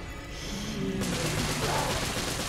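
Gunfire erupts in a horror video game, a burst of harsh rapid shots starting abruptly after a quieter lead-in and continuing as dense, loud crackling to the end.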